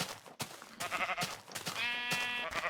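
Sheep bleating in the video game Minecraft, several wavering baa calls in a row, close and clear over quiet game background, with no talking.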